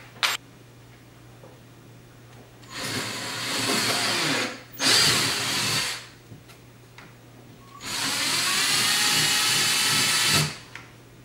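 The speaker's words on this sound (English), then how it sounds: "And then we can move up to the quarter inch drill bit." A handheld power drill with a quarter-inch bit bores into the composite of a C7 Corvette Stingray lower vent duct, whirring in three separate bursts, near and fairly loud, with quiet pauses and small handling noises between them.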